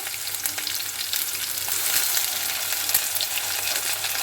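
Ginger garlic paste sizzles in hot oil while making a whole black gram dal curry, a steady close crackling hiss with faint scraping of a spoon, with no voices.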